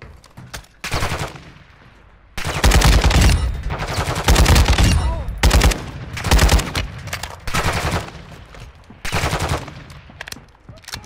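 Mid-caliber gunfire in a video game during a DMZ exfil, loud rapid bursts of automatic fire in several long volleys separated by short pauses, with brief talk over the shooting.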